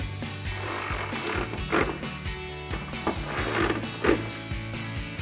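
A 13 mm socket ratchet tightening bolts on a 2015-2023 Dodge Charger's composite Hellcat-style hood, a steady close run of rapid clicking strokes repeated in short bursts.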